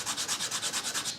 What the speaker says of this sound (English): try to sand them down a little bit